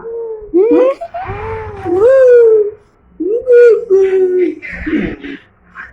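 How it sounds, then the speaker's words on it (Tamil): A dog close by gives a run of whining, yelping cries that rise and fall in pitch, separated by short pauses. "அதான் சிரிக்குது நாய், கட்ட நாய்"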